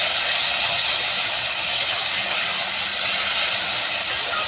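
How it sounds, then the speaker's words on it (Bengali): Chopped onions frying in hot oil while being stirred for a spicy minced-meat curry, a steady, even hiss of sizzling that holds at a constant level throughout with no talking. "দুটো পেঁয়াজ কুচি দিয়ে দিলাম। একসঙ্গে নাড়াচাড়া করে আমি ভেজে নিই।"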